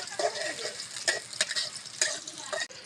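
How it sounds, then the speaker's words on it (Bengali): Onion frying in oil in a kadai with garlic and ginger paste, giving a steady close sizzle broken by the scrape and clack of a spoon stirring the pan. "তারপরে দিয়ে দেবো রসুন আর আদা বাটা"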